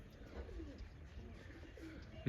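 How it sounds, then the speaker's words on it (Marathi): Soft, low pigeon coos murmur faintly in the background of a quiet outdoor scene in a traditional Rajasthan village with small pigeon houses. "ही बघा ही सगळी कबूतर"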